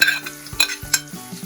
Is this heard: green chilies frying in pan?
yes